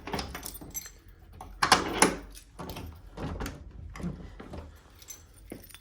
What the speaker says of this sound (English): There's a locked door here with a padlock.